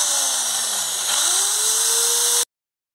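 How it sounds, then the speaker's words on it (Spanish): A drill fitted with a wire brush wheel scours rust off a refrigerator door hinge, a steady loud whine that sags in pitch as it bites, then recovers and runs on before stopping abruptly. "Lo vamos a limpiar con esta grata de taladro."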